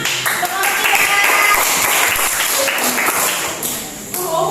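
Students in a classroom clap their hands together as a group, a busy stretch of overlapping claps mixed with voices and chatter, fairly loud and close, tapering near the end.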